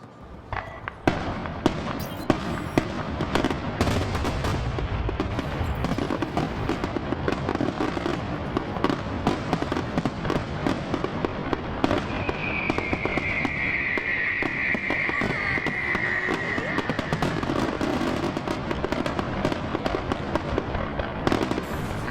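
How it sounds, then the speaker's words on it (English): Fireworks in the video game Mass Effect: Andromeda crackle and pop densely and continuously for over twenty seconds, a steady barrage of sharp bursts with a brief whistling tone partway through. "I was trying to squeeze my way out of them so I could come and have the fireworks appear like they were in the sky."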